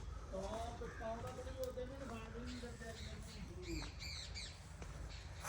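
A few short, high bird chirps sound briefly over a nearby voice talking, with a low steady background hum.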